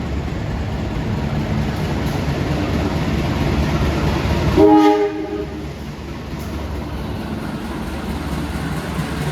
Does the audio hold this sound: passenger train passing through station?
yes